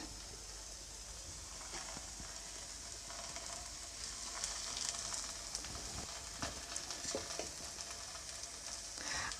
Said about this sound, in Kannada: ಅಂಚು ಚೆನ್ನಾಗಿ ಕಾದ ಮೇಲೆ ಉದ್ಬಿಟ್ಟು ಇಟ್ಕೊಂಡಿರುವಂತಹ ಪರೋಟನ ಹಾಕ್ಕೊಳ್ತಾ ಇದ್ದೀನಿ